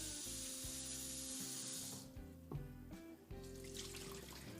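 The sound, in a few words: blanched cauliflower rinsed under cold running tap water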